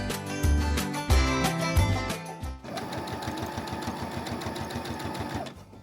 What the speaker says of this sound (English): I'm gonna sew the shoulder seams together